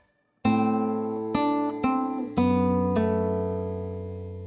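Classical guitar plays measure 13 of Minuet in G: five plucked notes and dyads, one low bass note sustaining beneath, each attack clear and ringing, played slowly and alone at close range.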